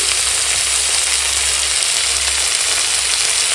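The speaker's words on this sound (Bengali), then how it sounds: "পেঁয়াজ কুচো কাঁচা লঙ্কা ছেঁড়া দিয়ে ভালো করে ভেজে নেব" Chopped onion and torn green chili fry in hot oil in a home kitchen pan, giving a steady, close, loud sizzle and hiss that holds without pause.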